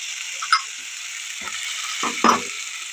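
Bell pepper, garlic and mussels fry in a mix of vegetable oil and butter, giving a steady high hiss broken by a few soft clicks and thuds from the pan, no voices.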